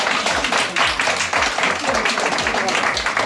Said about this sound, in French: On peut vous applaudir très fort.